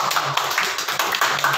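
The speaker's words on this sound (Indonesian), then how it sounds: "Iya, tepuk tangan dulu" A few nearby hands clap during a church service, making loud, uneven claps and taps in a brief irregular burst rather than full applause.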